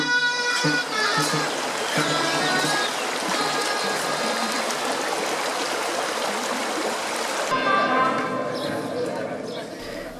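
A river flows beside an outdoor festive meal in Molina de Aragón, its steady broadband rush running throughout with voices and other activity layered over it.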